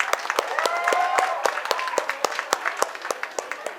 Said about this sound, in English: Let's clap for our PGDM batch 2022.